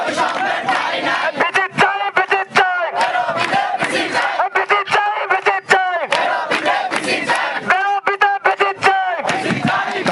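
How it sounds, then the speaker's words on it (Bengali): Students at a university protest blockade chant slogans in unison, a loud crowd of voices rising and falling in rhythmic call-and-response phrases with brief pauses between lines. "এখানে শিক্ষার্থীরা স্লোগান দিচ্ছে"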